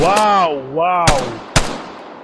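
Video game gunfire: two sharp, loud single shots ring out close by, interleaved with a voice shouting over them.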